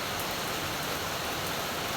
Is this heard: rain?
yes